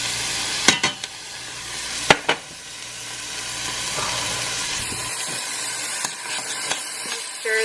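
Chopped garlic and ginger sizzling in a pan on medium-high heat, a steady close frying hiss broken by a few sharp clinks and knocks of utensils.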